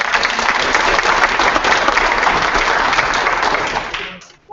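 Dense audience applause fills a school board meeting room, steady and loud for about four seconds before tapering off abruptly at the end.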